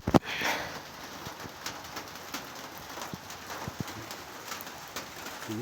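Birds at a village house garden, with a pigeon or dove faintly cooing among soft outdoor ambience and light scattered bird calls, steady and fairly distant throughout.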